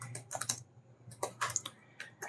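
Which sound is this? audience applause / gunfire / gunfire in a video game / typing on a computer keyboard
typing on a computer keyboard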